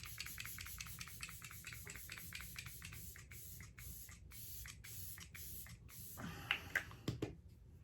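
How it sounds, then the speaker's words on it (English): Glow Recipe Watermelon Ultra Fine Mist face spray pumped in a quick series of short, close hissing spritzes, about a dozen in rapid rhythm, followed by a few soft handling clicks. "let's use the watermelon, the Glow Recipe Watermelon Ultra Fine Mist"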